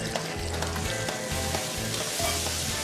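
Breaded pork tenderloin schnitzel fries in olive oil in a skillet, giving a steady, close sizzle with no talk over it.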